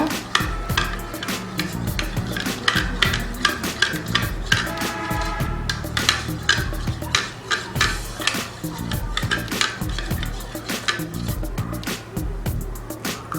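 Chicken pieces being stirred into beaten egg mixed with milk and spices, a steady run of close, wet sloshing and clicking against the bowl with short rhythmic strokes.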